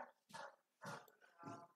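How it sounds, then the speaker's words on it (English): A dog barks indoors in the house, three deep separate barks spaced roughly half a second apart, fairly close and alone with no talk. "That's the dog."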